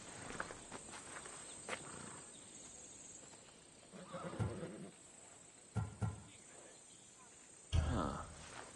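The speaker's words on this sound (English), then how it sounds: "These are bred for battle. A true warrior's horse." Warhorses bred for battle snort and neigh in Assassin's Creed Odyssey, a few short bursts rising over a quiet background with hoof-like thuds.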